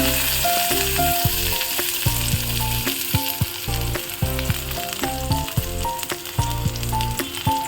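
Garlic sizzling in mustard oil gives a steady, close crackling hiss under prominent background music, with faint irregular spits and pops.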